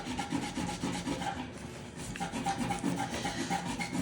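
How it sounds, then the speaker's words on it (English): Microfiber cloth buffing rust off the metal of an airsoft AKM, close rhythmic rubbing and scrubbing strokes in quick repeated passes, moderately quiet and without speech. "a dry part of the microfiber and like buff the rust off"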